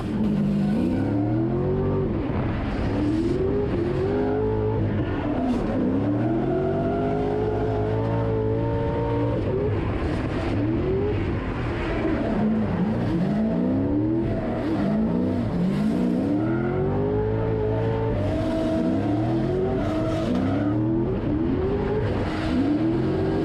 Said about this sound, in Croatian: dosta vozača jednostavno poklopilo pun gas i napravilo rolling burnout